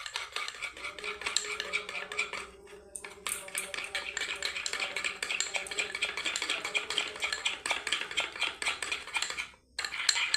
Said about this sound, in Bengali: অ্যালোভেরা জেলটা এই চালের পেস্টের সঙ্গে ভালোভাবে মিশিয়ে নেব।